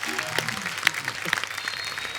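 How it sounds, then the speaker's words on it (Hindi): A burst of applause from a small crowd, dense clapping throughout, with a few voices mixed in. "एक बार जोरदार तालियां"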